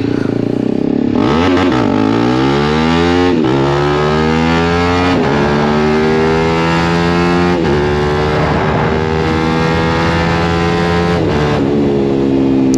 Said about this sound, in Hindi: बाकी इस गाड़ी को ट्रैक मोड पर डालते हैं और एक बार व्हीली ट्राई करते हैं।